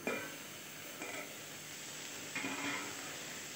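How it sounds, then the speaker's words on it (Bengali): Cauliflower and potato pieces fry in a pan with a soft, continuous sizzle and hiss, fairly quiet, with a couple of slightly louder surges as the pieces settle. "এটা আমার ভাজা হয়ে গেছে ফুলকপি আলুটা"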